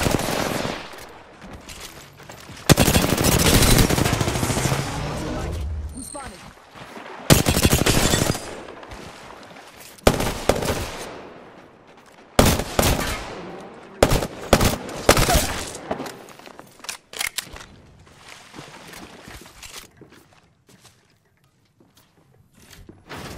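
Bursts of automatic gunfire in Apex Legends, loud and close, coming in several separate volleys and sharp single cracks, with quieter gaps between them that fade toward silence at the end.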